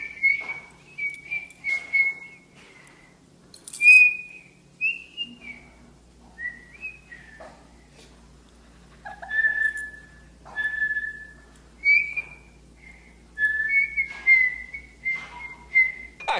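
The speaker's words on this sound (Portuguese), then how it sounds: "Ela assobia desde os 10 meses de idade." A baby girl about ten months old whistles in short tuneful notes, some held and some sliding, with pauses between phrases and a faint low hum in the background.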